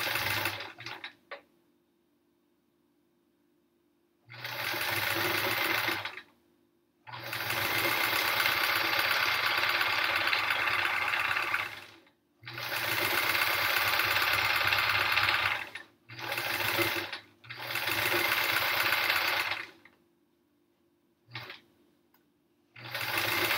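A sewing machine runs in several bursts of steady mechanical whirring, each lasting a few seconds, separated by short pauses, fairly close and with no talking.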